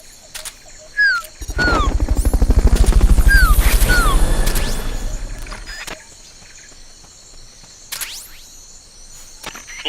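A helicopter's rotor beats in a loud, steady thumping for a few seconds in Metal Gear Solid: Peace Walker, with synthetic chirps and whooshes around it, then fades into quiet ambience.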